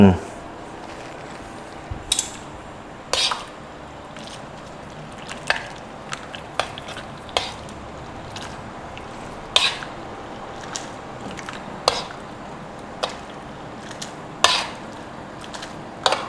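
Noodles are blanched in a pot, heard as sporadic sharp metallic clinks and clatters of utensils against the pot, spaced irregularly over a quiet, low background.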